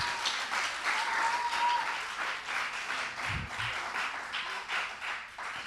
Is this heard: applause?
yes